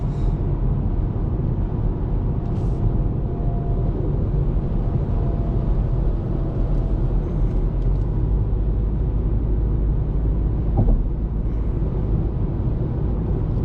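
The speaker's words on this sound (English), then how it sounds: "We're driving almost 100 kilometers an hour." A 2020 BMW 118i cruising at nearly 100 km/h, a steady loud cabin drone of engine, tyre and road rumble with no talking.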